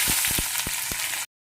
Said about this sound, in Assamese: কেৰাহীত তেল গৰম কৰি দিছোঁ।